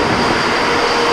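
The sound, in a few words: ship engine room engines running, Northern Yeager at Dutch Harbor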